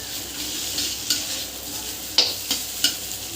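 Mashed potato filling for bread ball pakora is stirred in a hot pan, a soft steady sizzle broken by a few sharp scrapes of the spoon against the pan.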